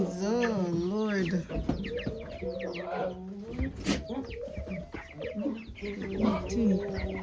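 Chickens cluck and squawk close by in a steady, busy chorus on an off-grid farm, with a voice talking over them now and then.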